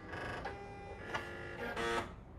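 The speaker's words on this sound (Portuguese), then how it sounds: "Essa aqui é a minha Singer Legacy. Eu vou ligar." Singer Legacy electronic sewing machine being switched on, giving a steady electronic hum with a few short beeps and tonal chirps over about two seconds, close and fairly quiet.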